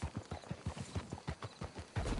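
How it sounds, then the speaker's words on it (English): Horse hooves clip-clop at a steady trotting rhythm in the video game Red Dead Redemption 2, close and moderately loud, with a rising rumble of movement toward the end and no talk. "Let's hitch the horses up ahead."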